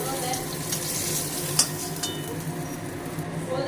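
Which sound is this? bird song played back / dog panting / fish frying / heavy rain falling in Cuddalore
fish frying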